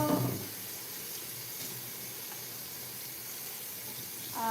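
Tap water runs steadily into a kitchen sink as a cutting board is rinsed, a continuous close hiss with brief handling clatter at the start and end.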